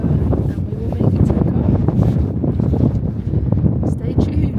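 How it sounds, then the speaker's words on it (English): Strong wind buffets the microphone on an exposed hilltop in the Malvern Hills, a loud continuous rumbling gust noise with no pauses. "It's a wee bit windy up here"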